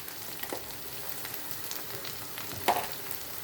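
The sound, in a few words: garlic sautéing in a pan with sausage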